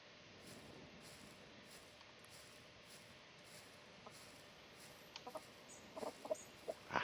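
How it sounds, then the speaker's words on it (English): A chicken in the SCUM video game clucks in a few short, soft bursts near the end, over a faint, steady outdoor ambience. "where the hell did the chicken go?"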